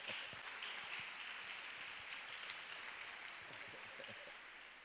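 Applause from a church congregation during a French-language service, a steady wash of many hands clapping at moderate distance that holds for several seconds and tapers slightly at the end.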